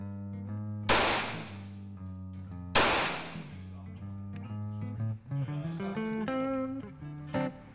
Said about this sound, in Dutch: Dit is wat een handvol kogels doet met een standaard kozijn.